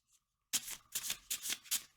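Tarot cards are shuffled by hand in four quick riffling bursts after a short silence, crisp and close with brief pauses between each burst.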